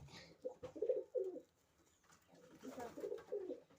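Pigeons coo in two soft, rolling bursts separated by a short pause, close by and otherwise quiet, with no talking.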